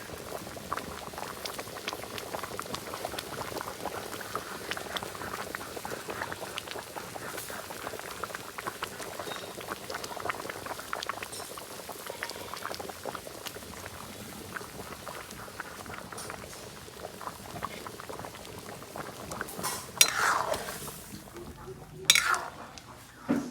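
Black gram dal with a fish head bubbles in a pot at a steady, close rolling boil, with continuous liquid burbling throughout. A few utensil clinks come near the end, and there is no talk.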